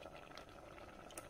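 Black-eyed peas with gongura leaves simmer in a pot, a soft steady bubbling that stays faint and continuous, with no talk over it.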